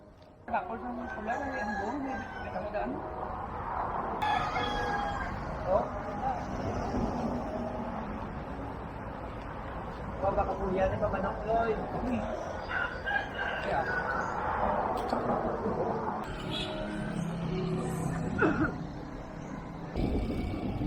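Roosters sparring and crowing outdoors in the Philippines, several crows and clucks rising over a busy background with voices talking throughout.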